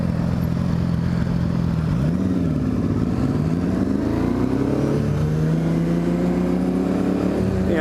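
Loud motorcycle exhaust with aftermarket mufflers revving steadily, a rising and falling engine drone that stays close and dominant throughout with no pause.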